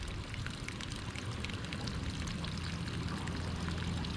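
Water flows steadily through a siphon hose in a vegetable garden, a soft, continuous pouring and trickling that stays faint and even throughout.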